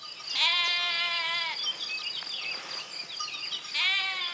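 Ewes on a farm in the Aude region of southern France bleat twice, close and loud, each call a wavering, nasal cry with a short gap of quieter outdoor ambience between them.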